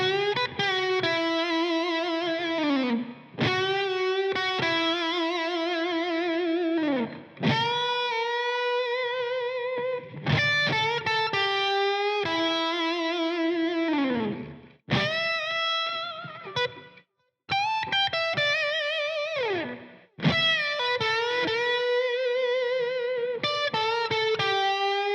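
A second-verse solo played on a distorted electric guitar, with sustained singing notes, bends and vibrato in phrases separated by brief pauses, loud and unaccompanied throughout.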